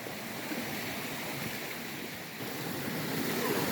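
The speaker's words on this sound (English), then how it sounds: "no matter where you go, there's always water flowing" Water flowing steadily at St. Mary's along a hiking trail, a continuous broadband rush that holds even and close with no voices.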